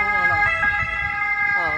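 An ambulance siren in Italy near Lago di Garda on a drizzly day, loud, close two-tone wail cycling steadily with a pitch shift near the end, over faint background noise.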